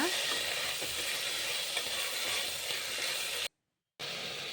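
Fresh avarekalu (hyacinth beans) stirred with salt in a pan, a continuous sizzling fry with scraping stir strokes, steady throughout before a brief cut to silence near the end.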